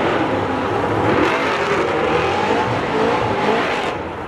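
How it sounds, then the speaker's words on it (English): Drift cars at a Formula Drift event roar through the course with a loud, continuous engine drone and tire noise, steady with slight swells and fading a little at the end. "I hear cars."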